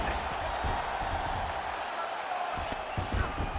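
A UFC fight crowd cheers and roars in the arena, with a broad steady wash of noise, louder swells and bursts near the end.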